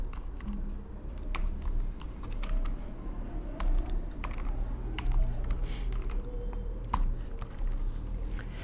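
Steady computer keyboard typing while PHP script code is written, a continuous patter of close, moderately loud keystrokes with scattered sharper clicks, no voice.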